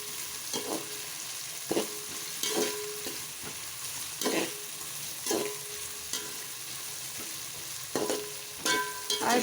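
Onions sauté in a pot for veg pulao, a low continuous sizzle punctuated by a regular series of sharp spoon scrapes and clinks against the pan, close by with no talking.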